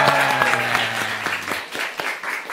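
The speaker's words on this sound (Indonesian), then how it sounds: "Tepuk tangan dulu dong." Audience at a live talk event applauds in a loud, continuous wash of many hands, with a sustained tone ringing underneath for the first second and a half.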